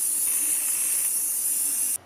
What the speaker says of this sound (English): spray the ring and pinion as well as pretty much everything else with anti-spatter spray